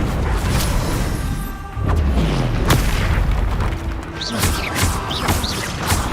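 Confringo spell blasts in Hogwarts Legacy, a series of loud booming explosions and impacts mixed with whooshing spell effects amid continuous combat noise.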